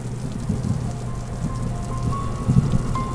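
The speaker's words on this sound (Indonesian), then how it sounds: "Hujannya semakin deras" Steady heavy rain drumming on a surface on Mount Salak, a dense constant patter with occasional louder drops, no voices.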